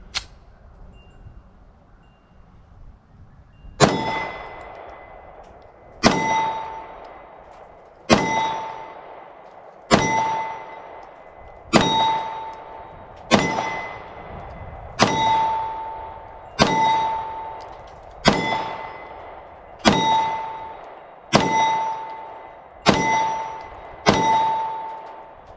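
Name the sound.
9mm Taurus G3 pistol rounds hitting range targets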